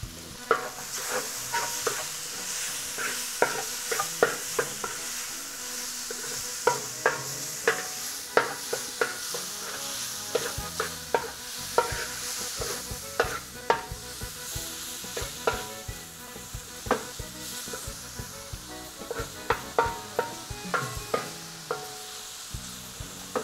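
Ingredients for paella campeira frying in olive oil with salt and black pepper, giving a continuous sizzle broken by frequent sharp stirring clinks and scrapes in the pan, with no one talking.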